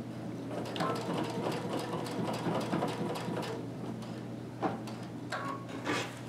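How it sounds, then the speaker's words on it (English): A sewing machine back tacks across the short end of fabric for a walker caddy, a continuous close whirring run of stitching with a few faint clicks and handling sounds near the end. "I usually start on the short end and back tack across."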